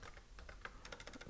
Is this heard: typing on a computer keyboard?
yes